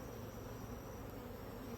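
Honey bees crowd into mini mating nucs, giving a faint, steady buzzing hum close by, unbroken for the short stretch and without any voices.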